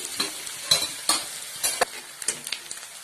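Onions frying in a pan for vegetable upma, a light sizzle broken by repeated sharp scrapes and taps of a spoon stirring against the pan, close and uneven in rhythm.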